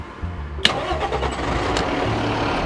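A fire truck's engine cranks and catches, then settles into a steady medium-pitched idle, loud and close from inside the cab, with no talking.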